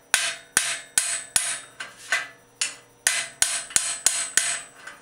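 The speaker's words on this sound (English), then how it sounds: "We can use a regular hammer." A regular steel hammer knocks the headset cup out of a vintage Schwinn bicycle frame with about a dozen sharp metallic blows in a steady rhythm, each ringing briefly before the next strike.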